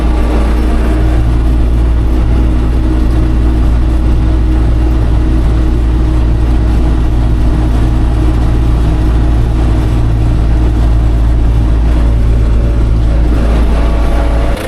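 A tractor engine pulling an LGP 2.7 implement through a field at about 12 km/h, a loud, steady, close drone that runs unbroken throughout with no voices.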